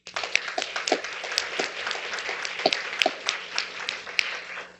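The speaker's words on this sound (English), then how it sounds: "Please give them a round of applause." An audience applauds at an anniversary celebration for an occupational therapy program, a steady spread of many hands clapping throughout, moderately loud, with a few sharper nearby claps standing out.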